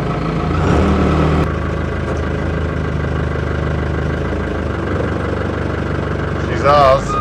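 An engine on machinery bought at auction fires up and settles into a steady, fairly loud running rumble, with a brief revving surge near the end.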